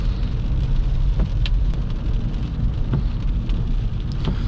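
Steady rain heard from inside a 2019 Kia Forte compact sedan while driving in wet conditions, a constant broadband hiss of drops with faint road rumble underneath, close and continuous with no talking.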